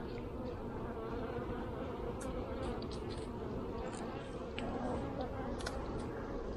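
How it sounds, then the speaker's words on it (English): A dense, unbroken drone of honey bees fills the air over an opened quadruple deep nuc hive being inspected, agitated and releasing alarm pheromone, loud and near throughout with slight swells as bees pass close. "This girl's been buzzing me."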